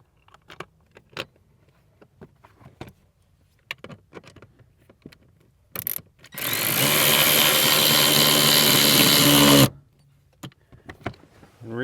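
A power tool drives the original bolts back into a Ford Bronco's rear interior: a loud, close whirring burst of about three seconds, framed by scattered clicks and handling knocks.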